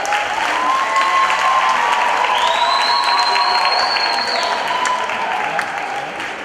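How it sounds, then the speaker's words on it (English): Audience applause for pageant contestants at a women's pageant event: sustained crowd clapping with a few scattered cheers, loud and even throughout, a whistle-like tone sliding across the middle. "they deserve a huge round of applause"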